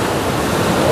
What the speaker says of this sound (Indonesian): Wah, ini ombaknya, teman-teman nih.